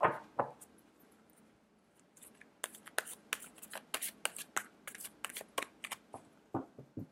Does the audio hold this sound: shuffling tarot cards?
yes